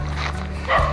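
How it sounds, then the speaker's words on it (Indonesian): Several dogs bark out in open country among coconut trees, a brief burst of mid-distance yaps over a low steady hum of background noise. "Gonggongan anjing yang banyak ya."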